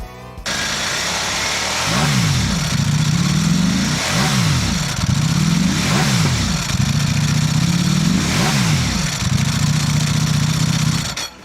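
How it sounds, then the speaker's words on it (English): A Ducati Panigale V4 SP superbike engine revs hard in repeated blips, five or six rising and falling surges with a racing exhaust bark, close and loud with no talking. "The Panigale V4 SP, the iconic Ducati Superbike racing sound."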